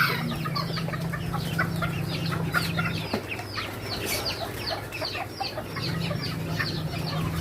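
Old English Game bantam chickens cluck repeatedly in a farm pen, with short overlapping calls from several birds close by and a steady low hum underneath.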